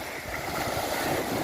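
Sea waves washing onto the shore in strong wind, a loud continuous rush of surf mixed with heavy wind buffeting the microphone, no voices.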